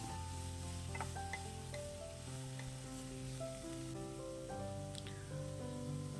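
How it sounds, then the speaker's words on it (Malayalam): Vegetables sautéing in a pan for Kerala-style fried rice, a steady close crackling sizzle with occasional stirring clinks, no talking. "ഇനി വെജിറ്റബിളൊക്കെ ഒന്ന് വഴറ്റിയെടുക്കണം"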